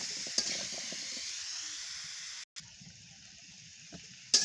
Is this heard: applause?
no